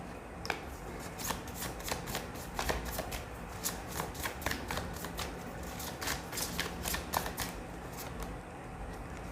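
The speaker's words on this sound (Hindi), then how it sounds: "कार्ड्स निकालते हैं, देखते हैं क्या कुछ एनर्जीज हैं।" A deck of tarot cards is shuffled close up in a steady run of crisp, rapid riffling clicks and snaps, with no talking.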